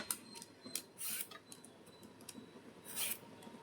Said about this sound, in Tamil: இப்போ நம்ம மேல் பகுதி தோலை மட்டும் வந்து அழகு லைட்டாக சீவி எடுத்துடலாம்